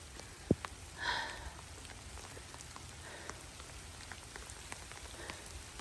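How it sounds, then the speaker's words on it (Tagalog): Rain falls steadily on a hillside trail near High Junk Peak above Clearwater Bay, a soft even patter on surfaces with a faint sniff and brief rustle near the start, no talking. "Umulan na."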